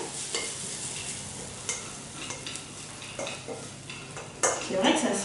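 A spoon stirs grated carrots with cumin in a hot pan, giving a steady scraping stir over a continuous sizzle of frying, with a few louder clinks near the end.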